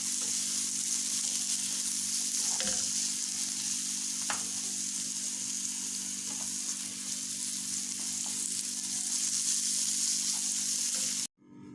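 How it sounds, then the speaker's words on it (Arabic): Onions and garlic frying in a pan for a chicken and onion casserole give a steady, dense sizzle that holds for about eleven seconds, close and even, with faint occasional stirring clicks, then cuts off abruptly; nobody speaks. "انا هحط على طول معلقه الثوم بتاعتنا، هقلب فيها لحد ما"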